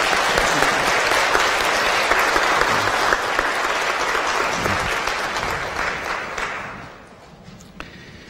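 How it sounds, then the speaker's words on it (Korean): A church congregation at a Sunday service gives warm welcoming applause to a new member, a dense, full round of clapping that holds steady, then thins and fades out near the end, leaving a few scattered claps. "여러분들 인사드릴 때 따뜻한 환영의 박수 부탁드립니다"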